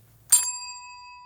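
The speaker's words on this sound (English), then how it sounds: "now that I know the bell is working" A single bright ding from a small bell, struck once and left to ring out with a clean sustained tone that slowly fades, in an otherwise quiet room.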